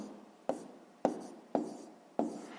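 A pen writes out a sixth-grade math solution on paper in four quick, distinct scratchy strokes about half a second apart, close and quiet, each fading quickly into a soft background hush.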